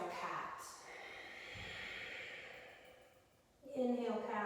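A long, slow exhale during a yoga cat pose in a 30-minute flow class: a soft, breathy rush of air that fades out, then a brief sharper breath sound near the end.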